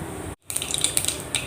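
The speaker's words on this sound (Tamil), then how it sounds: "பாருங்கள், கடுகு நல்லா பொரியுது." Mustard seeds with urad dal and cumin splutter in hot oil for a yam fry, making a close scatter of quick crackles and light pops after a brief silent gap.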